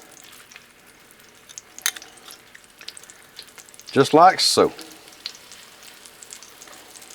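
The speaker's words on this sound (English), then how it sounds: "all we're doing here is just shallow frying the chicken" Oil sizzles steadily as chicken shallow-fries on a Blackstone griddle, with a louder burst of spitting and crackling midway and a short spoken remark.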